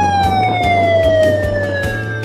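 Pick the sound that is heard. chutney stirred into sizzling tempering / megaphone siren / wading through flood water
megaphone siren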